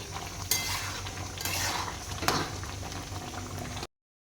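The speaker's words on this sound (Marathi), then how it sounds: "इथं मस्त असा आपला चावल शिजत आहे" Rice cooks at a boil in a pot for rajma chawal, a steady bubbling hiss with a couple of sharp clinks of utensils, moderately close and without any voices.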